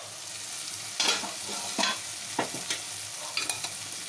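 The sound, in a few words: stirring beans and potato curry in a pan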